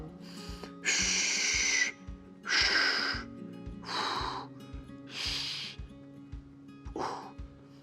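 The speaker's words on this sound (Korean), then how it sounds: "숨 들이마시고 시작." Heavy, audible breaths come in about five bursts during a hip abduction stretch. The airy inhales and exhales are close to the mic over a low steady hum, and no speech is heard.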